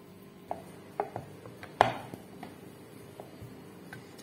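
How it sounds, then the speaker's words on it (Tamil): Chapathi dough being rolled out in a kitchen: a few scattered wooden knocks and taps of the rolling pin against the board, one louder clack among them, over a quiet background. "சப்பாத்தி நல்லா மடிச்சு மடிச்சு திரட்டிக்கலாம்."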